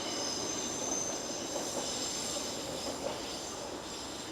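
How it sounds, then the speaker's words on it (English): A train rolls past at night in Ochanomizu, Tokyo, a steady loud rumble of rail cars with faint wheel squeal and clatter, continuous and close, with no voices. "Oh, there's a train right now, might as well shoot."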